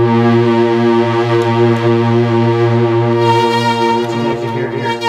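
A loud, buzzy Polymoog synthesizer tone drones on with rich stacked harmonics, its timbre shifting and thickening as pulse width modulation changes the waveform; no voices.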